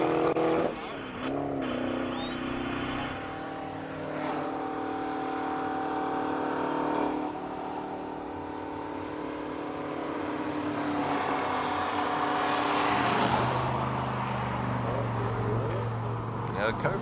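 A Cobra race car runs the Simola Hillclimb at a classic car event, its engine note rising and holding in a steady drone, while commentators talk over it throughout.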